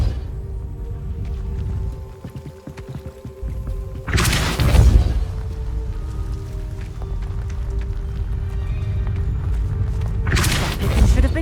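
A Depulso spell cast in Hogwarts Legacy: two loud, broad whooshing blasts with a booming thud, one near the middle and one at the end, over a steady game ambience with a low hum.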